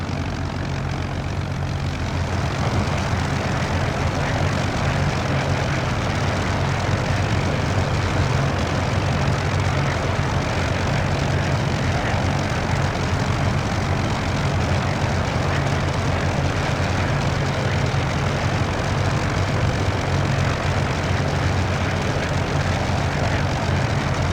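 A loud, continuous Hawker Hurricane propeller engine in a flight simulator drones steadily at a constant pitch throughout, with no talking and no change in intensity.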